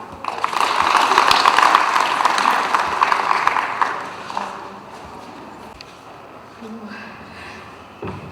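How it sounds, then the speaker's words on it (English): An audience at an alumni meet of a school applauds to welcome a guest speaker, dense clapping loud for about four seconds, then fading to scattered claps and quiet room noise. "So with a huge round of applause, let's welcome our first guest speaker, Hazika."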